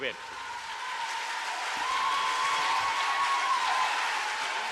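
Steady applause from a large crowd, a dense even clatter of clapping that holds at a constant level throughout.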